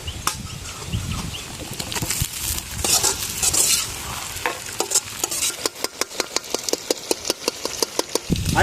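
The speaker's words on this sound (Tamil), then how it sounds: "இப்போ நம்ம நறுக்கி வச்சிருக்க தக்காளியை போட்டுக்கோம்." Chopped tomatoes go into a hot pan for a village-style Old Monk rum chicken gravy, with steady frying sizzle and a run of sharp, rhythmic stirring or scraping knocks that quicken in the second half.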